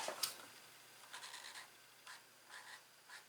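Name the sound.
marker scratching on paper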